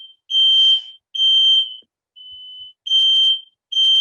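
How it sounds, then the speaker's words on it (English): Smoke alarm going off indoors, sounding five loud, shrill piercing beeps in a halting, uneven rhythm, each held about half a second with short silent gaps, close and alone with no talk. "my smoke alarm's going off."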